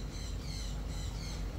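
A short burst of harsh parrot squawks outdoors, loud and close, the calls wavering continuously over a dense, noisy background.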